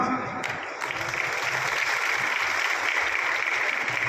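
An audience applauds at an outdoor public gathering in a village, a steady wash of many hands clapping from start to finish, with a faint voice over it at the very beginning.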